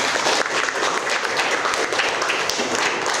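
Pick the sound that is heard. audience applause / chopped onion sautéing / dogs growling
audience applause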